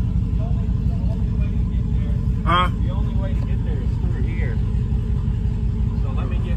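Cars at a show of high-end supercars give a steady low engine rumble throughout, with people talking over it and a brief whistle-like sound partway through.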